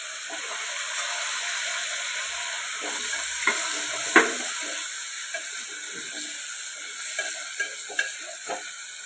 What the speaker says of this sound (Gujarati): હવે એમાં આપણે ટામેટાં સમારેલા નાખી દેવાના.